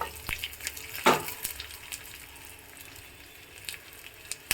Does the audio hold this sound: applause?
no